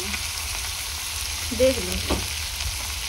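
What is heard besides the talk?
green chillies and tomatoes sizzling in pan for sev bhaji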